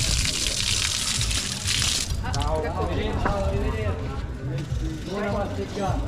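Strong jet of fresh water gushing from a town fountain in Castellina in Chianti, a loud continuous rushing splash with people talking over it.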